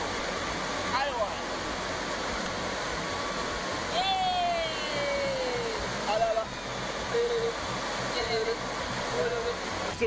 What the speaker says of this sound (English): the falls are so beautiful, the water is raging